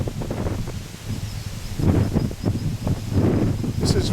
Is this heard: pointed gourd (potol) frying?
no